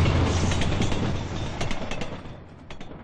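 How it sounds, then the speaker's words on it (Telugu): Howrah Mail passenger train from Howrah to Chennai rolling into platform one, a loud, broad rumble of rail cars with clicking wheel sounds that fades slightly as the train passes. "హౌరా నుండి చెన్నై వెళ్లే 7054 నంబర్ గల హౌరా మెయిల్ 1వ నంబర్ ప్లాట్ఫామ్ కు వచ్చుచున్నది"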